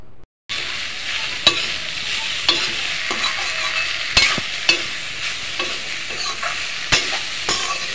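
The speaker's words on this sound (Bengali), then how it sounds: "হলুদ দিয়ে দিলাম। এখন আমি নাড়ি দিয়ে নেব ভালো করে।" Shapla (water lily) fries with turmeric in a pan, a constant loud sizzle punctuated by sharp clacks and scrapes of a spatula stirring at irregular intervals.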